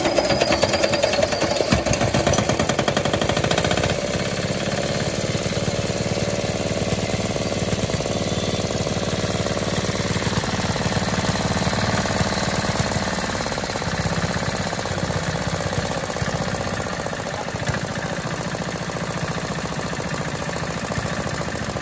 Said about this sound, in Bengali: আগে আপনাদেরকে ইঞ্জিনের সাউন্ড কোয়ালিটিটা শোনায় স্টার্ট দিয়ে